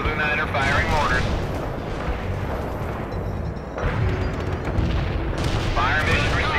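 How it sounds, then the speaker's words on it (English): Mortar fire in the World in Conflict video game: heavy booming artillery blasts and rumbling impacts with whistling incoming rounds, loud and layered over constant battle noise. "Zulu Niner firing mortars."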